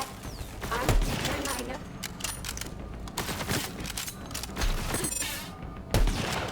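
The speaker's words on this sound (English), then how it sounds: "Finish him off with the sniper." Sniper rifle shots crack out in Borderlands 3 gameplay, a few sharp loud bangs spaced about a second apart amid busy game effects and a player's voice.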